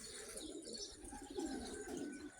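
Pigeons, including young birds, coo softly nearby in low, rolling repeated calls while being fed, a gentle continuous murmur with a few faint chirps above.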